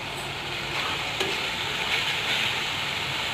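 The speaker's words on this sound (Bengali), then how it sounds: "কষিয়ে নিচ্ছি ভালো করে।" Pigeon meat sizzles and fries steadily in a pan while being stirred, with a loud, continuous hiss and occasional soft scrapes of the spoon and no talking.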